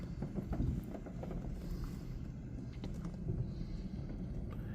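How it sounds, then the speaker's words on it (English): Wheel blast jets in a Mark VII ChoiceWash XT automatic car wash at a Chevron station, a steady, broad, rumbling spray of water heard from inside the car, with faint knocks and no talking. "we're getting a wheel blast right now"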